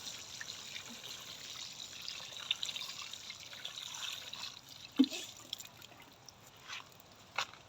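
Water poured onto soil in a black grow bag planted with Suphanburi 50 sugarcane, a faint steady trickle with occasional splashes and drips, close by with no talking.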